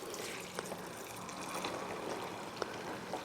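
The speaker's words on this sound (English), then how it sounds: "We're going to add some boiling hot water to this" Boiling hot water pours steadily into a pot of daal for ravioli daal dokri, a soft, faint continuous stream with a couple of small splashes.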